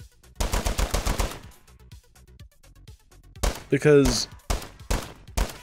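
Rapid bursts of FAL rifle fire in the tactical shooter game Ready Or Not, a fast run of sharp shots, then a pause with a brief voice, then more loud shots in separate bursts.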